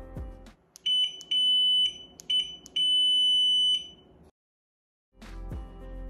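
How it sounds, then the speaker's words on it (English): An Unagi Model One electric scooter's handlebar horn gives loud, close electronic beeps: a few short chirps, then two longer held tones, with a steady low hum underneath before it cuts to silence. "The button above the brake is the horn,"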